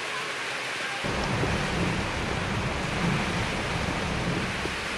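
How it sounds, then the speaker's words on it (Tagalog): Heavy rain pours steadily in Tuguegarao City, Philippines, a dense loud hiss that thickens after the first second, with a low rumbling undertone like distant thunder. "Buong umagang malakas ang ulan"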